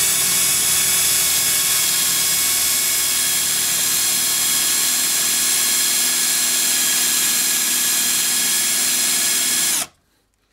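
A power drill bores into very hard wood, a loud, steady high-pitched whine running unbroken for about ten seconds before stopping abruptly.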